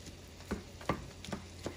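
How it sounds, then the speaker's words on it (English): A spoon chops and stirs ground sirloin and Italian sausage with vegetables in a pan, giving a few soft, spaced scrapes and taps over a faint sizzle. "We're going to chop up the meat along with the vegetables"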